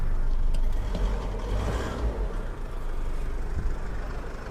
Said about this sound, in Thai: แล้วก็เดี๋ยวผมเร่งเครื่องนิดนึง